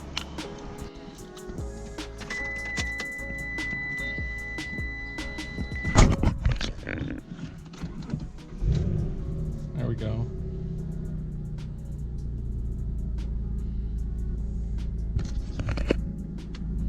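A Mitsubishi 3000GT VR4 engine cranks and catches around six seconds in, then settles into a steady idle rumble; someone speaks briefly near the start and over the running engine.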